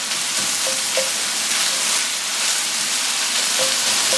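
Sausage seasoned with cayenne pepper fries in a pan, giving a steady, close, loud sizzle with faint scraping and stirring taps and no talk.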